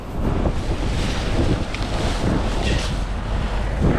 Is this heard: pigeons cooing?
no